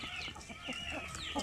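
Chickens cluck continuously at a small poultry farm, overlapping calls from several birds close by, with scattered higher squawks and no talking.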